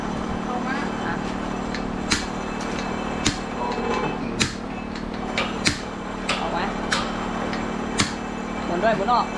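A hammer striking while a motorcycle shock absorber is worked loose, sharp metallic knocks at irregular intervals about once a second under ongoing talk and a steady background hum.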